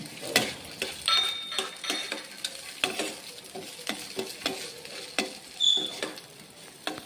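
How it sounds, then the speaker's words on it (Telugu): Dry fruits such as cashews frying in ghee for paramannam, soft sizzling beneath repeated sharp clicks and scrapes of a stirring spoon against the pan. "ఫ్రై చేసుకోవాలి, నేతిలో ఫ్రై చేసుకోవాలి."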